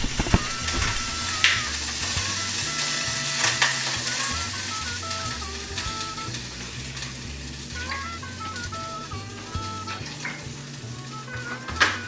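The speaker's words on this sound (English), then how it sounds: "then once it's actually boiling, we'll throw the meat in there" Pieces of meat dropped into a pot of boiling milk on a stovetop, giving a steady frying-like sizzle and bubbling that runs throughout with occasional clinks and stirring knocks.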